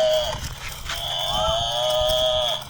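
A large cow lets out one long, loud, close moo lasting a couple of seconds, alone without talk.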